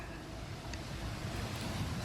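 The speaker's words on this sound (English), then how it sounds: "Focus on the sounds of the crashing waves." Ocean surf rolls steadily, a broad washing roar with some wind noise mixed in, continuous and fairly close with no distinct individual wave crashes standing out.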